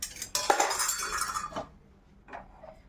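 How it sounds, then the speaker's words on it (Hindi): Metal utensils knocking and clinking against a pan as flour is lightly roasted for an ants' offering: a clatter with a couple of brief bright clinks, followed by quieter taps. "तो इस तरह से हम भून लेंगे। ज्यादा नहीं भूनना है, बस हल्का सा हम इसको भूनेंगे।"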